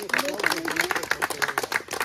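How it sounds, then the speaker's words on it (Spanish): Audience clapping at the inauguration of a public works project in Naranjastitla, Pahuatlán, Mexico: a brisk run of claps with a steady rhythm, mixed with a voice speaking over it. "Un aplauso también para él."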